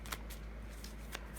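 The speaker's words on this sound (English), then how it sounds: "Let's just shuffle it really quickly." Quick riffles of a deck of tarot cards being shuffled, a few short bursts of crisp flicking against a quiet background.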